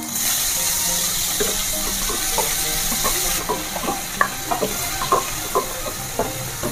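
Chopped onions frying in a pan with panch phoran and green chilies for a chhatu mushroom curry, a bright steady sizzle with quick stirring scrapes that get busier as it goes.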